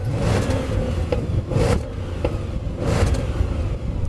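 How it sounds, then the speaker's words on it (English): An Audi S8 engine revs in loud repeated surges, rising and falling over a steady low rumble with no talking. "I'm going to rev up mine."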